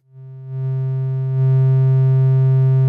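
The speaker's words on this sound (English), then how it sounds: "Here's turning up the VCA and the triangle wave." A steady triangle-wave tone from a GMSN modular synthesizer, with bright harmonics, swells up in two steps through a VCA, getting louder and holding at a constant pitch.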